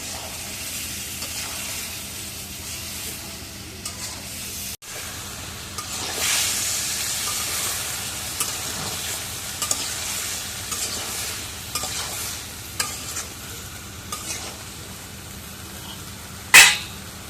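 Curry being sautéed and stirred in a pan with fish in a village kitchen, a steady sizzle under repeated scraping strokes of the spoon against the pan, with a louder clatter near the end.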